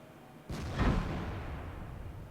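A tank cannon shot from a Waffenträger 4 in the World of Tanks video game: one sharp, booming report followed by a short rumbling tail that fades.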